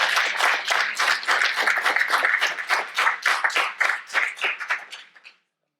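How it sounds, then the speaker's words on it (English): Applause at a city council meeting in Yuba City, a steady round of clapping from a room of people that holds for about five seconds, then thins out and stops. "A round of applause."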